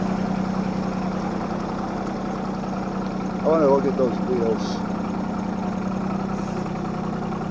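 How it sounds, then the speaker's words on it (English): A John Deere tractor engine runs at a steady idle throughout, a constant low rumble with vibration, while someone talks briefly over it near the middle. "The shack may not be any good, but the tractor's running."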